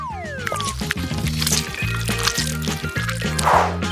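Colourful Oreo cake batter being poured, a thick liquid slosh and glug with light drips, close and fairly loud over bright background music.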